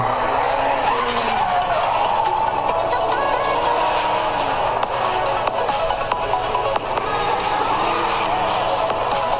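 Tires squeal and skid continuously from a car in a racing video game shown at E3 2019, with a loud, sustained engine drone and wavering screech across the whole stretch.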